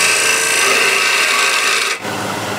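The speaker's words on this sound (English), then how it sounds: "you start with the spindle gouge closed, then once you're in the wood, open it up" A spindle gouge cuts a wooden spindle on a lathe, giving a steady, close, loud rasping hiss that holds evenly and then dips briefly near the end.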